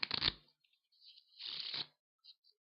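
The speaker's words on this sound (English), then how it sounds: "I'll just give the cards a quick shuffle" Playing cards are shuffled in two quick riffling bursts, close and quiet, followed by a couple of soft taps.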